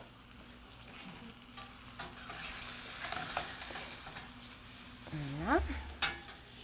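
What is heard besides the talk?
floured sole fish frying in a pan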